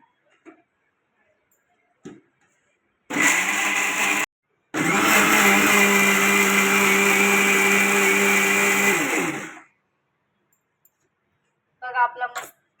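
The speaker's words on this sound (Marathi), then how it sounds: "मी आता मसाला वाटून घेते पिसून घेते" A mixer grinder whirs loudly while grinding spice masala, running in one long steady burst of about six seconds after a brief first pulse, then stopping, with quiet stretches and small clicks around it.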